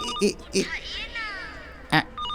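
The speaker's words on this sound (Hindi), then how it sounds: "ये रिंगटोन नहीं है आंटी, अलार्म है।" A mobile phone alarm plays a repeating electronic melody at moderate volume, broken by short bursts of people talking close by.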